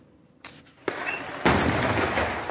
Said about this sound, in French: Une forte explosion.